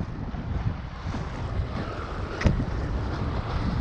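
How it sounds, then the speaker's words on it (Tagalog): Steady wind roaring and buffeting across the microphone while fishing by the water in Bacolod, Philippines, with a low rumbling wash and a brief gust spike midway. "Malakas ang hangin."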